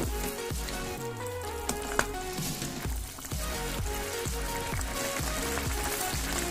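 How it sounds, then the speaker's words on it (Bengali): Banana stem pulao with raisins and cashews stirred in a pot, a steady sizzle under repeated scraping strokes of a spoon along the bottom, close and continuous, over background music. "খুব ভালো করে একদম তলা থেকে নাড়িয়ে চাড়িয়ে দিন"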